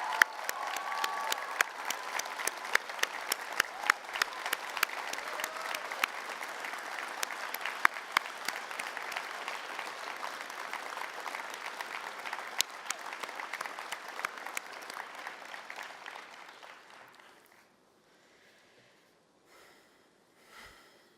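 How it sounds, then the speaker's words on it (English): A standing audience at a community event gives a thunderous round of applause, steady dense clapping with a few sharp claps that swells for about seventeen seconds, then trails off to near silence with a few last claps. "So please stand up and let's give them a thunderous round of applause."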